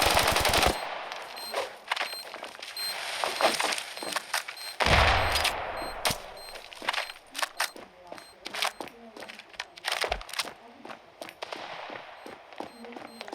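Rapid bursts of gunfire from the mobile shooter Standoff 2, a bomb-defusal round with terrorists, crackle through the match as repeated sharp shots and short automatic volleys, with a loud cluster near the start and more around the middle.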